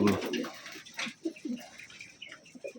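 A Taiwanese pigeon of rare color gives soft, low coos from inside its cage, several short muffled notes spaced apart after a brief loud rustle at the start, fairly close and otherwise quiet.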